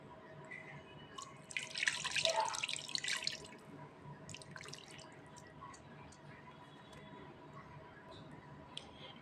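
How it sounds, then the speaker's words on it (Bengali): Water is poured into a spiced mixture of shing and koi fish, giving a short splashing burst near the start, followed by faint drips and quiet background hiss. "এখন পানি দিয়ে দেব।"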